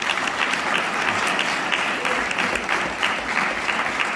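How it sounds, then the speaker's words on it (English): An audience at a restaurant legacy award ceremony gives a steady round of applause, dense clapping throughout at moderate volume. "Round of applause for that,"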